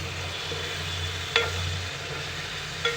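Spices and green chillies frying in a pan give a low steady sizzle, broken by a couple of short clinks of stirring, close by and without speech.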